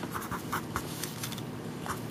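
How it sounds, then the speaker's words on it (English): Writing out a fraction problem, 1/6 plus 2/9: soft scratchy strokes of a pen or marker in short quiet bursts, close but faint, with no talk. "I'm going to write this."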